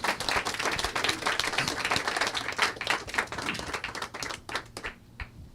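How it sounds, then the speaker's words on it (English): An audience at a book reading claps for the author, a fairly close, crisp patter of many hands that holds steady and then thins out and stops near the end. "Can I get a quick round of applause for Nick first?"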